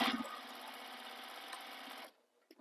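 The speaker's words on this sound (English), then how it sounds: "I want to stitch it in the same direction on both sides" A sewing machine runs steadily while stitching fabric for a crossbody bag, a close, continuous mechanical whir lasting about two seconds before it stops, followed by a faint click.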